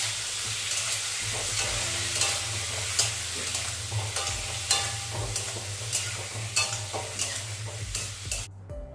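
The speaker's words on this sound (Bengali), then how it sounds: "আর এই তো দেখো আলু ভাজাটাও কিন্তু আমি একদম বসিয়ে দিয়েছি নুন হলুদ মেখে" Potato slices coated in salt and turmeric fry in a pan. A steady, loud sizzle runs throughout, broken by repeated scraping stir strokes and small clinks. The sound cuts off just before the end, and there is no talk.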